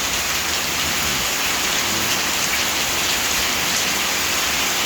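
Heavy rain pours steadily in a dense, loud, continuous hiss, with no breaks or voices.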